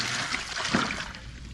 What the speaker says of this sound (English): Look how fast that water comes out. This is a full powered pump.